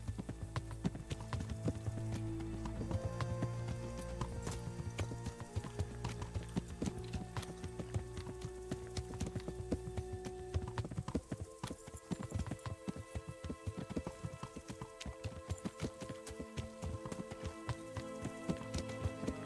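Horses in the medieval video game Kingdom Come: Deliverance clip-clop in a steady rhythmic gait, hooves close and clear over game sounds, with no talk.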